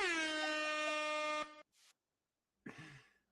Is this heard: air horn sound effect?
yes